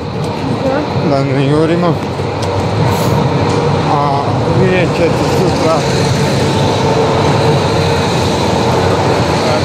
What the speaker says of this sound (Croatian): Evo ide neki tramvaj, a nek ode